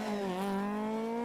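A Ford Escort rally car at speed on a stage during the Cork 20 Rally, its engine holding a steady high tone that slowly rises in pitch, loud and close throughout the brief moment.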